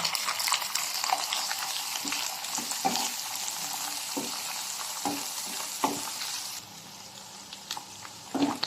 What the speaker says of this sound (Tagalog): Ayan, haluin lang po natin siya. Para po ay maluto.